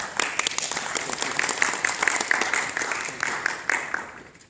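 An audience at a university gathering applauds, a dense, steady patter of many hands clapping up close, fading slightly toward the end.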